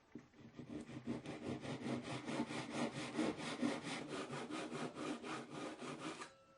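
Steady back-and-forth hand sawing through a guitar string winder part held in parallel jaw clamps, a fast even rhythm of rasping strokes close up for several seconds before stopping.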